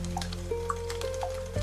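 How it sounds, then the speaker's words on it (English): Water dripping in a small Edo-period row house on a rainy day: soft, separate drips land at irregular intervals over a steady low hum, close and quiet, with no voices. "waking before dawn to the sound of water"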